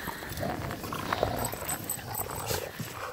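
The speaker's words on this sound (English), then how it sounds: "No, don't bark at it." A dog barks during a stick-fetching game outdoors, a few distant rough barks over steady outdoor background noise.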